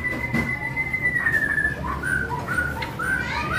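Songbirds kept for sale give sustained whistled calls, one long steady note followed by several short rising chirps, close and fairly clear over a low background rumble.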